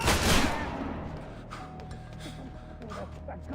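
Gunfire in the stealth action video game Splinter Cell Conviction opens with a loud burst of shots that fades into a noisy, rumbling scene with scattered smaller impacts and background voices.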